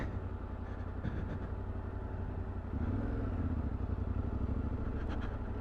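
A small trail motorcycle rides over rough ground, its mid-pitched engine droning steadily close by and rising slightly in load partway through, with no talk over it.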